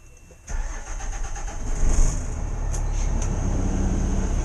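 Fire engine at a station in The Villages, Florida, starting up: a quiet lull, then the engine catches abruptly and settles into a steady, loud idle with a brief rev, close by.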